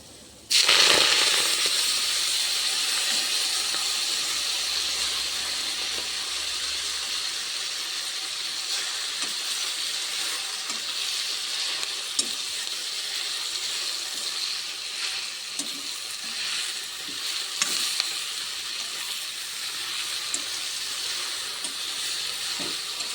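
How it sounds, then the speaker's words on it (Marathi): Washed fenugreek leaves drop into a pan of fried garlic with a sudden loud burst of sizzling that settles into a steady, dense hiss of frying, close and continuous with no talk. "लसूण छान आपला लाल तळला. आता मी याच्यामध्ये टाकते धुतलेली मेथीची भाजी"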